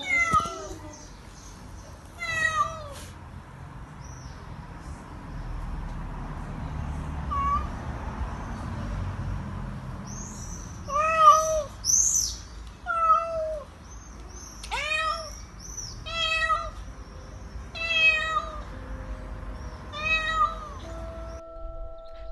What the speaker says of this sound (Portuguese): os gatos encontravam-se na jaula no fim de semana sem água, sem comida, no qual estavam com um miar ensurdecedor